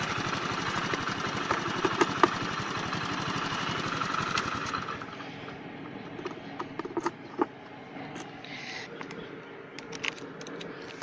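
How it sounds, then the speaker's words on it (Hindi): A Hero 100cc motorcycle engine idles after carburetor fuel-mixture tuning, a fast steady close putter that fades to a quieter idle midway, with scattered clicks and taps of handling. "फ्यूल मिक्सर को सेट करने के बाद में इंजन का आरपीएम हल्का सा बढ़ गया है"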